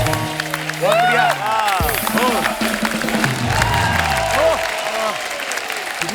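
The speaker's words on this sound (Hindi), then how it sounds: "एक बार जोरदार तालियां हो जाएं सिद्धार्थ के लिए" An audience applauds and cheers for Siddharth at a live comedy tribute evening, a dense, steady wash of clapping from a crowd that carries on under voices talking loudly over it.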